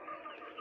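A native hen clucking, one short, faint, throaty call heard on its own.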